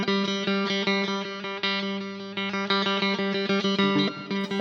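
A guitar string picked over and over with a handmade chicken pick, each steady ringing note starting with a clear attack, giving a bright, slightly distorted tone in an even rhythm.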